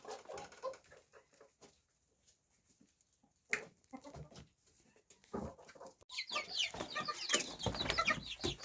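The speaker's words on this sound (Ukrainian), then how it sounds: "Тут у мене чотири курчатка з великих кур." Hens and chicks cluck softly and intermittently nearby, with brief bird calls, then a busier burst of clucking and scratchy movement toward the end.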